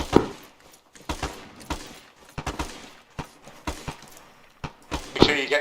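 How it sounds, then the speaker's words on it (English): Simulated battlefield gunfire in Arma 3 during infantry training, with scattered sharp shots and bursts at irregular intervals, some loud and close, others softer, amid brief radio-style talk. "get any explosions and fake gunfire"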